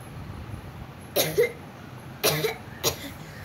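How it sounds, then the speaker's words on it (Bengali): Three separate bursts of coughing, each a short harsh cluster of one or two coughs, sound close and loud over a quiet room background. "আর কাশিস না রে"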